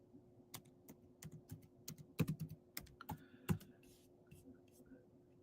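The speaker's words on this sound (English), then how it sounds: "Let me type in world map." Someone types on a computer keyboard in a quiet room: sharp separate key clicks come in short uneven bursts, close and fairly soft, over a low steady hum.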